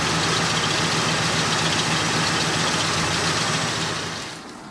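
A 1965 Ford Galaxie engine with a newly replaced GM HEI ignition module, idling steadily at close range with a constant rough rumble and faint knocking, then trailing off near the end; no voices.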